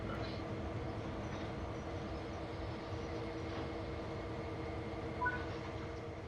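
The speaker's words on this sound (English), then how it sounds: "Now change direction with the reverser and move the train forward into the indicated siding" A passenger train in a PS4 train simulator game rolls slowly, giving a steady low rumble with faint wheel and track noise throughout and a brief small clunk near the end. No one speaks.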